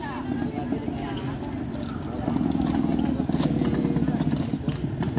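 A modified, brakeless Vespa-style scooter ridden by local youths on a blockaded, potholed road gives a steady, rough, sputtering engine rumble that grows louder partway through, with people talking over it.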